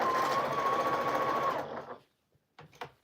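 Sewing machine with bobbin case trouble running loudly and steadily with a whine for about a second and a half, then stopping, followed by a few faint clicks and short handling knocks.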